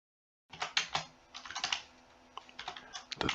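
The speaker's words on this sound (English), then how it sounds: "I cannot type this morning" Someone types on a computer keyboard in bursts of quick, close clacking keystrokes with short pauses between, after a moment of silence at the start.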